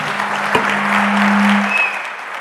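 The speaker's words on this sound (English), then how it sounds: "How about a round of applause for our commercial space panel?" An audience applauds a commercial space panel, a close, full burst of clapping that swells and then tapers off within a few seconds, with a faint tone running through it.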